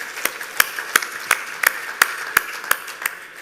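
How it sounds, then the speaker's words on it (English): Sparse, evenly spaced claps ring out at a 2016 BCA awards event, roughly ten sharp, distinct hand claps in a steady rhythm rather than full crowd applause, moderately near and alone without talk. "So I think they deserve a huge round of applause."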